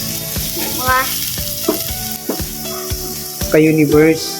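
Corned beef sizzling and frying in a pan while being stirred, a steady crackling hiss with scraping stirs, and a voice briefly speaking over it near the end.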